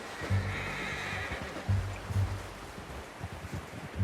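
A horse whinnies loudly over a rushing, noisy outdoor background, with a snort or two following, in the video game Red Dead Redemption 2.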